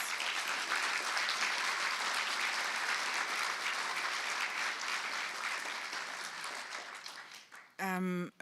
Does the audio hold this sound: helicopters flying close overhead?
no